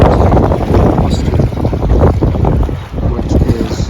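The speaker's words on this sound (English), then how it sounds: "the gale force winds are in a southwesterly direction, gusting up to about 1900 kilometers an hour" Gale-force southwesterly wind gusting near mountains, roaring as loud, continuous broadband buffeting against the microphone with surging gusts throughout, and no voices.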